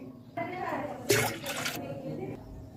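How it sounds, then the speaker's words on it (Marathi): Milk and water are poured from a bowl into a pot for rice kheer, a short splashing gush in two bursts close by, set against someone talking. "आपण तीन वाटी दूध आणि तीन वाटी पाणी घ्यायचं आहे"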